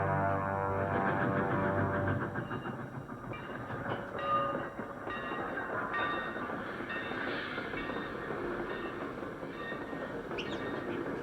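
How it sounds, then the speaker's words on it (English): A train bound for New York rolls past on the rails, a loud rumble that eases after the first two seconds into a steady clatter with faint metallic squeals and tones. "There's the train to New York, Quentin."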